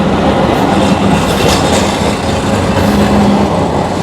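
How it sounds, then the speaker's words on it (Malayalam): A tram runs along a street in Istanbul, its steady loud rumble and rail rattle holding near and constant with no speech over it. "ട്രാം വരുന്നു."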